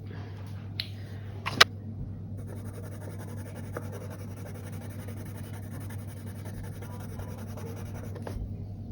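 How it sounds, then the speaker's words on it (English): A Faber-Castell Polychromos colored pencil in Green Gold 268 is drawn across paper, giving a faint, steady scratchy scribble for several seconds, with a sharp tap and a brief rustle near the start and quiet room hum underneath. "This was the Faber-Castell Promo Polychromo pencil in the colour Green Gold 268."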